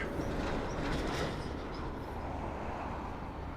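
A Long Island Rail Road commuter train rumbles steadily along the tracks at Speonk, a broad continuous roar with faint metallic rattling, close by and loud throughout.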